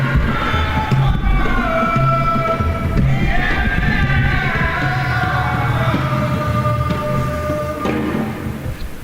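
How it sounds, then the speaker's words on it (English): Audience at a book launch for the World Cities Report 2016 giving a round of applause, a loud continuous swell of crowd noise and cheering that holds steady before easing toward the end. "A round of applause for him,"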